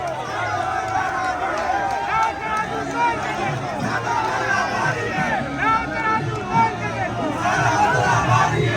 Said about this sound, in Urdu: نعرے لگائے جا رہے ہیں۔